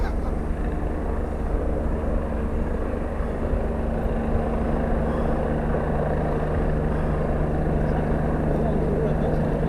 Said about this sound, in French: les hélicoptères de la gendarmerie